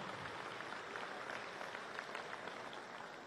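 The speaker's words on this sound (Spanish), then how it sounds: "Un aplauso para las corrientes revolucionarias." Applause from a crowd at a Venezuelan political rally held by the Great Patriotic Pole, steady and moderately loud for a few seconds, filling the space without speech on top.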